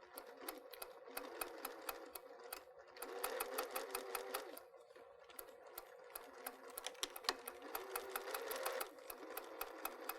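A sewing machine string-pieces quilt embroidery in rapid close stitching bursts, its needle clatter running in fast even runs broken by brief pauses.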